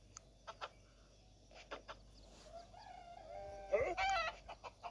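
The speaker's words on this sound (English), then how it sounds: "Chicken!" Chickens in the Tiny Thief video game give clucks and a crow-like call, mostly in the second half over a quiet background, with short bright bursts near the end.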